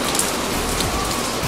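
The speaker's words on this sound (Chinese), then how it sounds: "呢、這个纷纷大雨，有一个好浪漫嘅感觉" Heavy rain pours outside a Taipei hi-fi listening room, a dense, even hiss of drops striking surfaces close by, steady and loud throughout with no voices.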